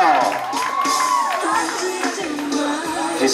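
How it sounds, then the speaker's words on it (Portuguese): Party crowd at a daughter's birthday celebration cheers and whoops, with children's shouts and rising voices at moderate loudness for a few seconds. "Uma salva de palmas, pessoal."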